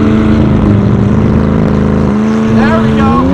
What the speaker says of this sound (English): why don't we try launch control again?